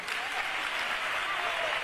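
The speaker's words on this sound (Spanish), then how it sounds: "dale ese fuerte aplauso a la chirigota infantil" Crowd applauding a children's carnival chirigota group at a Córdoba carnival pregón, a dense, even wash of clapping that holds steady through the short stretch.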